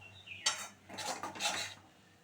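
Spoon stirring a freshly ground spice paste in a pan for a jackfruit curry, giving a few close, soft scraping clinks over about two seconds with no talk.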